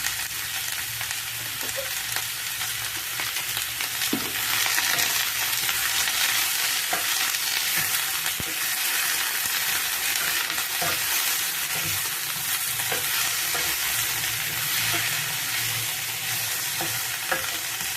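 Brinjal, carrot and onion sauté in oil with asafoetida for a wedding-style sambar, giving a continuous crackling sizzle broken by repeated stirring scrapes of a spoon against the pot, with no voices.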